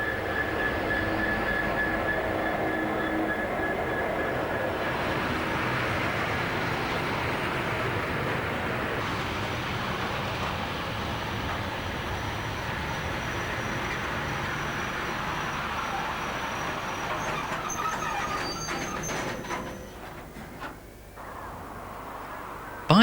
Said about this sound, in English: A China clay train from Burngallow reaches St Blaise by running round in Par Station.